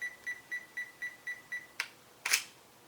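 Pentax K50 DSLR self-timer on a 2-second delay: seven evenly spaced short electronic beeps, quiet and close, followed by the sharper mechanical clack of the shutter and mirror firing.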